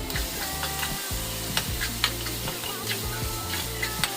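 Cucumber frying and sizzling in a pan for Telugu dosakaya chutney, with steady crackle and occasional stirring scrapes, close and continuous with no talking.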